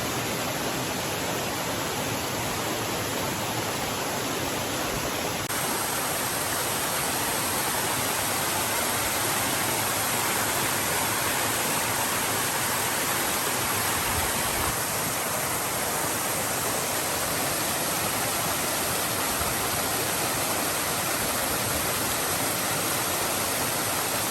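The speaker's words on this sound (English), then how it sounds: "So now, this is our second waterfall," A jungle waterfall roars in a dense, unbroken wash of white noise, loud and close, with no voices or other sounds breaking through.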